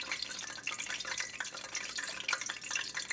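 Oil heating for frying egg rolls sizzles and crackles after a few drops of water hit it, a steady bright spattering with dense little pops throughout.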